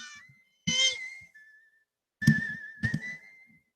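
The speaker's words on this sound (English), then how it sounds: "It's the whistle from Lassie" A person whistles a short melodic phrase, the Lassie theme, in a few bursts separated by pauses, clear and close in a quiet room.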